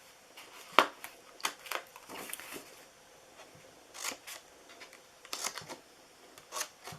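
Scissors snip through paper for a handmade New Year's box, a handful of short crisp cuts in uneven bursts with quiet pauses between, close and fairly soft.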